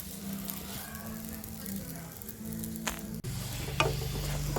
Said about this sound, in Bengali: এর উপরে ওই পরোটা বেলাগুলো আমি একটা একটা করে সেঁকে নেবো এপিট এপিট করে লাল লাল করে ভেজে তুলে নেব